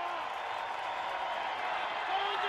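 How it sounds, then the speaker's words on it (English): The home crowd roars for the New Mexico Lobos at a college football game against the New Mexico State Aggies, a broad, steady stadium din that swells slightly near the end beneath a commentator's voice. "Lobos home crowd getting loud."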